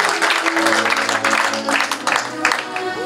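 A church congregation applauds and cheers the Lord during a French-language worship service, with steady loud clapping and crowd noise mixed with singing voices.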